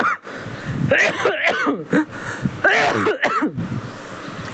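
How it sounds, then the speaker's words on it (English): A man coughs and clears his throat in several harsh, close bursts with short pauses between them, and no other sound is present. "I'm so sorry for the cough."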